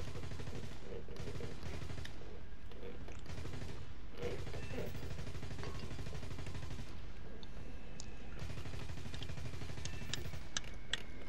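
Stock Hispano cannons fire at a B-17 bomber in a flight combat video game, sounding as dense, rapid bursts of thudding cannon fire over a steady engine drone, with a short pause and then renewed firing.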